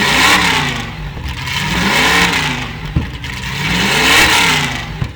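Supercharged LS V8 in a Nissan S13 Silvia drift car with 8-into-1 collector headers, revved repeatedly in loud rising and falling sweeps, close and raw, with sharp pops between pulls.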